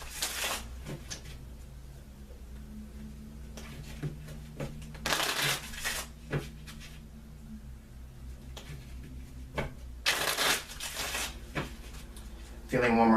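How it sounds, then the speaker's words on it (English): A deck of playing cards being shuffled by hand during a card reading, producing soft riffling and sliding bursts that come and go in quiet surroundings, with a few faint knocks between them. "take a few moments to shuffle the cards"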